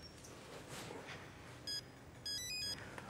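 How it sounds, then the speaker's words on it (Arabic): A telephone rings in an indoor domestic scene with two short electronic tone bursts, the second longer and warbling, each standing out faintly against a quiet background hiss. "تليفون."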